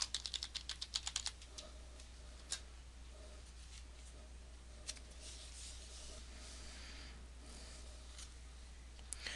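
Quick bursts of computer-keyboard keystrokes as a password is typed, a dense cluster of taps at the start followed by scattered single clicks over a steady low hum, close and fairly quiet.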